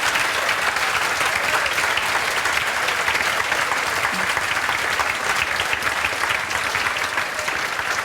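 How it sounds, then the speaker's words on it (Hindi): Steady, dense applause from an audience at a teacher selection event continues evenly and loudly throughout, with no pauses. "तो ज़्यादा जोरदार तालियां सर के लिए।"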